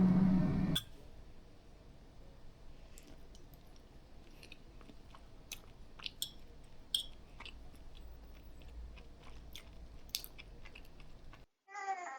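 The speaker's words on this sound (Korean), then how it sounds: "얼른 먹어보겠습니다." A person eats a late meal at home, with soft, close chewing and crunching sounds spread through a quiet room and no talking.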